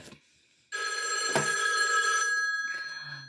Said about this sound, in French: Ah, on a le téléphone qui sonne, génial.